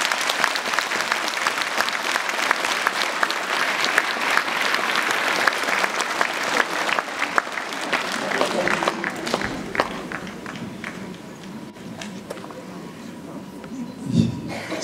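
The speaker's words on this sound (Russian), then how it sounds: "Аплодисментами пойдем." A concert hall audience at a concert breaks into sustained loud applause, dense clapping that fills the room and thins out toward the end, with voices mixed in.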